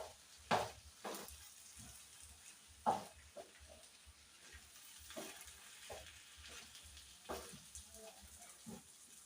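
Chicken gizzards fry quietly in a pan with a soft, steady sizzle and a few sharper pops and clinks of stirring scattered through, heard close and alone.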